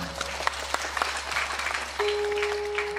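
Audience applause at an Islamic preaching event with wayang puppetry in Bandung, a steady patter of clapping for a few seconds under a faint sustained tone, fairly distant and moderate in level.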